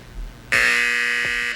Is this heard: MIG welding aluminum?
no